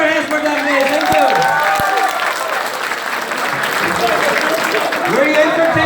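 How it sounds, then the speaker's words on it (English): An audience applauds performers in a steady, dense wash of clapping with crowd murmur and voices talking over it throughout. "Can you clap your hands for them, please?"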